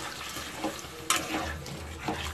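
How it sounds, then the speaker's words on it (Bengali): Water is poured into a pan of spiced potatoes cooked Bengali dum aloo style, giving a soft sizzle and splash with a few brief scraping clinks of stirring. "এবার আমি এতে জল দিয়ে দেবো।"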